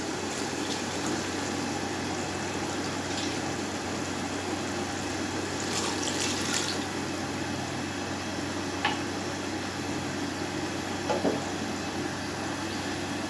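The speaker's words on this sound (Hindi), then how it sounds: "अब इसके अंदर मैं मज़ीद 2 गिलास पानी ऐड करूँगा।" Water pours into a pot of cooking black chickpeas as a steady, continuous gushing and bubbling wash that stays fairly even throughout, with a few faint clinks. There is no talk.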